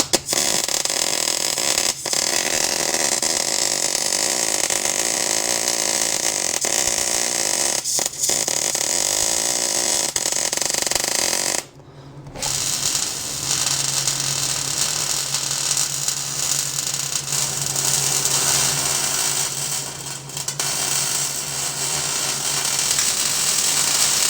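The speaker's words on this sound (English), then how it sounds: "I'm gonna belt sand this real quick." A belt sander grinds across a steel trailer fender with a loud, steady broadband roar that cuts out briefly midway before resuming, with no talking.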